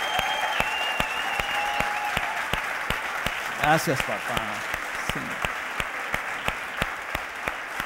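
Church congregation at a Spanish-language resurrection sermon applauding strongly for Jesus, dense sustained clapping throughout with a brief burst of voices in the middle and a few spoken words over it.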